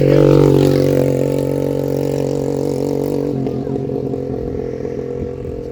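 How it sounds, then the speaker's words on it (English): A motorbike comes down a canal towpath, its steady engine drone close and loud at first, then easing and fading slightly as it moves on. "A motorbike actually coming down the towpath."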